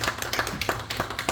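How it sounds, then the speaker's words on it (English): Audience clapping in support of a 30-year-old restaurant that serves an underserved community: a brief run of separate, fairly close claps in an irregular rhythm, with no voices. "Those claps make a difference"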